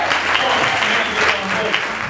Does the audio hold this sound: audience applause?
yes